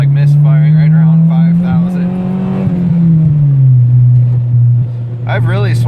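A car engine pulls hard in first gear, misfiring around 5,000 rpm. The loud, steady drone rises and then settles, with rough, uneven bursts over it.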